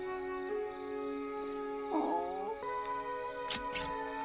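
A dog whimpers and whines in a scene from the film Edward Scissorhands, with soft high cries over a sustained musical score and a couple of brief sharp sounds near the end.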